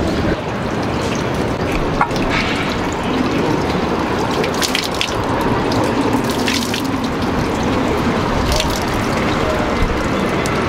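Steady running water splashes at a hand-washing station at Kochi Castle in Japan, a continuous outdoor wash of flow and drips with faint background ambience and no clear talk.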